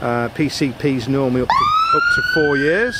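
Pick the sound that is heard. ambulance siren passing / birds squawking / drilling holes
ambulance siren passing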